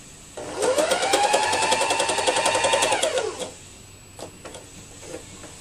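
A felting machine tacks fabric down for fiber art quilting, a steady fast mechanical whirring and needle chatter that runs for about three seconds, then stops, leaving faint clicks and handling noises.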